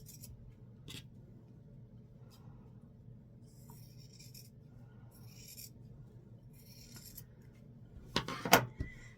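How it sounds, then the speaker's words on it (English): Scissors snip apart sewn quilt fabric squares with a few quiet cuts, ending in a short, sharper cluster of snips against a faint background hum. "After they're sewn, you cut them apart."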